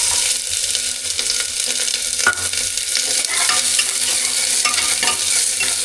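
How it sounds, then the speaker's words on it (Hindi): Onion frying in hot oil in a cooker, with a loud, continuous sizzle and stirring scrapes, plus a sharper clack near the middle. No talking is heard. "इसमें डाल देता हूँ प्याज ताकि अच्छी तरह से वो फ्राई हो जाए"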